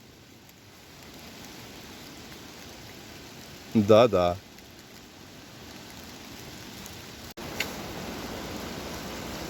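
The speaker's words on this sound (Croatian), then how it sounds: "Dočekali smo i kišu." Steady rain falling in a beech forest on Papuk mountain in the evening, a constant soft hiss of drops on leaves all around, with a brief spoken word cutting through partway.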